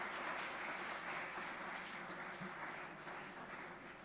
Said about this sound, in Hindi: तो एक बार जोरदार तालियां होनी चाहिए ताकि माहौल बन जाए।